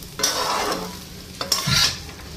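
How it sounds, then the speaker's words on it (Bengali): Rice frying in a pan is stirred with several distinct scraping sweeps over a soft sizzle, near and clear, with no speech. "ভাত ভাজা হয়ে গেল"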